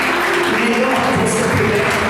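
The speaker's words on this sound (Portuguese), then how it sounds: "fica de pé no seu lugar, dando um aplauso ao Senhor Jesus." Standing worshippers in a church applaud Jesus, loud dense clapping from a large crowd filling the space, with voices and a low hum mixed beneath it.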